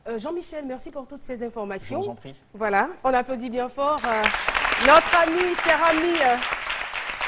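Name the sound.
audience applause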